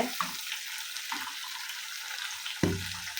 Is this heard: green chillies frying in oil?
yes